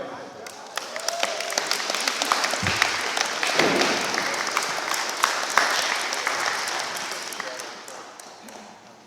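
An audience at the 2021 North Fort Myers Civic Association awards ceremony applauds. The clapping is dense and sustained, with scattered sharp claps, builds through the middle and then tapers off, with voices faintly under it.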